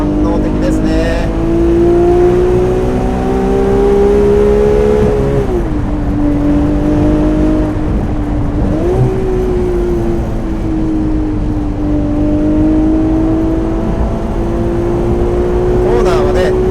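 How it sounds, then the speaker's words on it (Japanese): Ferrari 296 GTS exhaust note from the rear while driving with the roof open: a loud, sustained engine drone that rises, dips and climbs again with throttle and gear changes, heard from inside the car. "リアからね聞こえてくるエキゾーストノートがすごくドライバーの耳に入ってきますね"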